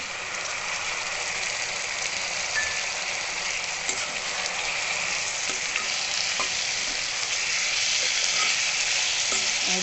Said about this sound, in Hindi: इसमें अब हम डालेंगे टमाटर,